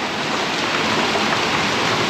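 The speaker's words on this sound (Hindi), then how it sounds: "बारिश भी हो रही है" Steady rain falling on a flooded road during a cloudy day, a dense continuous hiss with no pauses, close and loud, with no voices.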